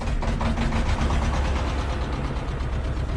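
A small sprayer engine runs loud and close, its pitch rising as it's revved, with a steady mechanical drone and no talking.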